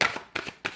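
A deck of tarot cards being shuffled up close, three quick riffling bursts in under a second, with nobody speaking.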